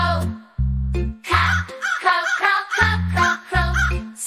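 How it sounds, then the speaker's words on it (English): Crow cawing in a children's phonics song: several loud, harsh caws in uneven bursts, set between stretches of sung or spoken voice and playful giggly sounds. "C is for crow."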